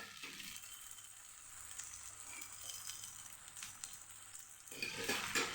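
A batata rava snack fries in oil in a covered pan, giving a faint steady sizzle that grows a little louder toward the end.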